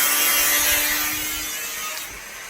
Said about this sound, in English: doing a bit of angle grinding of the aluminium plate